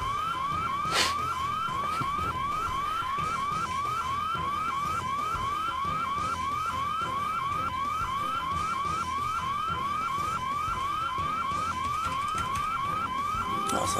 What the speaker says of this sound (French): Les bonnes alarmes des années 2006 qu'on adore.